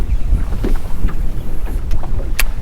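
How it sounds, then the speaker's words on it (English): Wind blows while someone fishes from a boat, a continuous low rumbling buffet against the microphone, with small splashes and knocks scattered over it. "Be good if there was a touch less wind."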